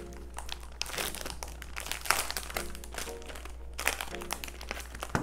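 Grillz being packed into crinkly packaging, with steady close plastic crackling and rustling throughout, a few sharper crunches standing out over a low constant hum.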